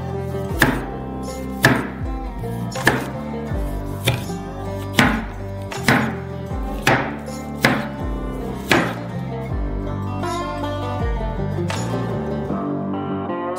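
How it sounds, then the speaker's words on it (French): A knife slices lime into small rounds on a cutting board, about ten sharp, evenly spaced chops that sound close and distinct, with a brief pause near the end. "Coupez-le en petites rondelles."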